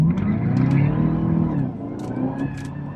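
A 2014 Cadillac CTS-V Wagon powers around a corner, its engine roaring loud and close in a sustained surge, dipping briefly midway before pulling hard again.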